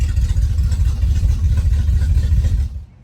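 A Chevrolet El Camino with a broken exhaust idles loudly and close by, a deep, steady rumbling throb that cuts off abruptly near the end.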